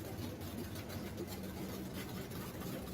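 Car engine idling in a hot rod garage, a steady low rumble with an even texture, moderately close and unbroken, with no talk over it.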